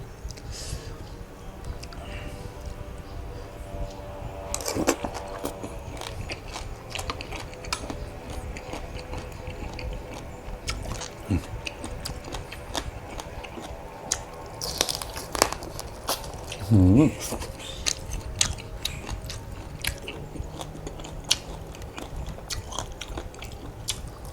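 Crunchy chewing and biting on spicy papaya salad, a steady run of close crisp crunches and wet mouth sounds lasting throughout, with a little speech mixed in.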